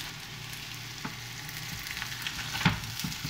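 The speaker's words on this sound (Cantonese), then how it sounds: "就要煎燶嗰個底，煎香佢，約莫係煎2分鐘到啦" Teochew double-sided golden noodles pan-frying in a little added oil, a quiet continuous sizzle close by with an occasional sharper crackle near the end.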